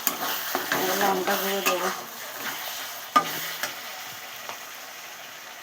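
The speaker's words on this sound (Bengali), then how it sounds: "পেঁয়াজ ভাজা হয়ে গেছে, টমেটো দিয়ে দিয়েছি, এই হলুদ গুঁড়ো দিলাম" Fried onion and tomato cooking in a pan with turmeric added, giving soft sizzling and stirring scrapes at close range, moderately quiet, with a brief spoken line over it.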